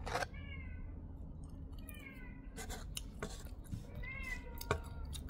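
A pet cat meows repeatedly indoors, several short rising cries spread across a quiet room, with faint clinks of cutlery or dishes nearby.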